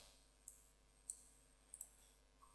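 Computer mouse clicks on a Windows 7 PC, several faint, sharp clicks spaced apart, two in quick succession, over a quiet low hum.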